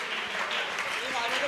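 An audience at a public gathering of a Jain community claps in a dense, steady patter of applause that lasts a moment, with voices mixed in.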